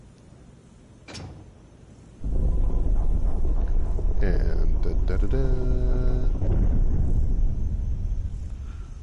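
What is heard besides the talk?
door opening in the video game Resident Evil HD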